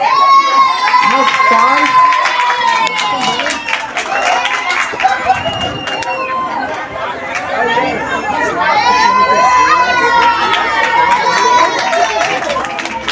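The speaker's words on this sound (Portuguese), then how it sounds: "Rapaz, a torcida tá forte, viu?" Loud crowd of supporters cheering and chattering, with excited high voices swelling at the start and again near the end, while someone speaks briefly over the noise.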